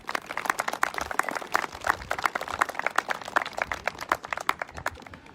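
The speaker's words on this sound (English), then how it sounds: "Please join me in a round of applause to say thank you." An audience applauds at the U.S. Capitol Christmas tree ceremony with dense, steady clapping that holds for several seconds at moderate distance, with no voices over it.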